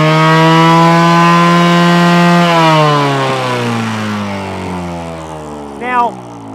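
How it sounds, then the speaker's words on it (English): A motorcycle engine hums loud and close at a steady pitch, then its revs dip and sag gradually after a very slight throttle turn, with a short rising rev blip near the end. "I'm going to turn the throttle just a tiny amount, a very, very small amount, and I want you to listen to the RPM."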